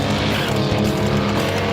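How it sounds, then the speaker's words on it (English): A 1967 Corvette launching on a drag strip with a wet tire, its engine roaring loud and steady while the tires squeal continuously for almost two seconds, with no talk. "Doc Fox, who has that yellow 67 Corvette, stood the thing up on the starting line, got a little water on the tire, got really crossed up, but saved it."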